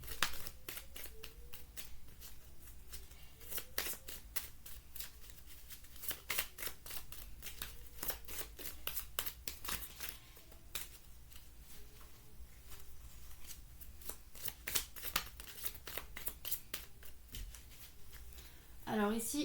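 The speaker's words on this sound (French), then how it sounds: "Allez, on va prendre une carte pour préciser cette carte-là." Tarot cards are shuffled and drawn by hand in a close, dry, continuous rustling and flicking, with a person talking over much of it.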